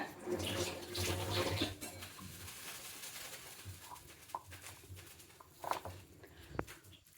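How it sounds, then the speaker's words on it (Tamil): Hands being wetted under running water in a kitchen while shaping fried rice pathiri dough, a steady splash and trickle for the first couple of seconds, then quieter drips and light patters. "இப்போ கையில் வந்து தண்ணி தொட்டுடுங்க"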